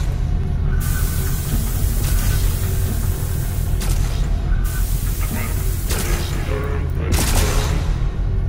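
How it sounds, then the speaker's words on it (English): Gun turrets in Volcanoids fire continuously, a dense, loud mechanical barrage of rapid shots with repeated bursts layered over a heavy rumbling drone, no talking. "we turn on all the guns"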